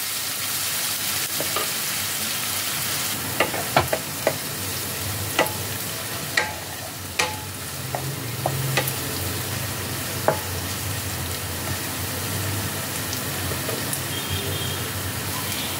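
Chopped onions fry in oil in a pan with a steady, close sizzle that runs throughout, broken by a few sharp spoon clicks against the pan and no voices.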